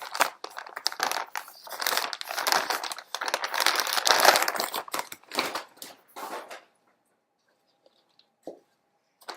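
Loud crinkling and crumpling of a plastic bag of organic potting soil in bursts for several seconds, then quiet with a couple of faint ticks.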